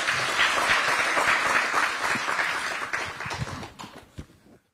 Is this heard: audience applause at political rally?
yes